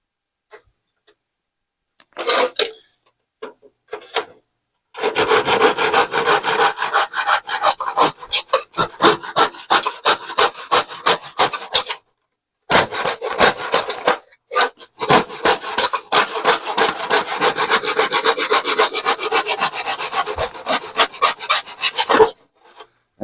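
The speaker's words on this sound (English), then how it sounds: "I will need about half to 1 inch of this ABS pipe, so I'm just gonna cut one" A handsaw cutting through a short length of ABS plastic pipe, loud close rasping strokes in fast rhythmic bursts with two brief pauses, no talking.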